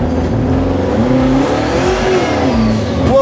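The twin-turbo 540ci Bubble Top Impala engine revs briefly on light throttle, a steady close rumble with a rising and falling whir over about three seconds.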